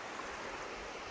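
A mountain stream and waterfalls near Laurel Fork Gorge on the Appalachian Trail rush in a steady, even wash of water noise with no break or other sound.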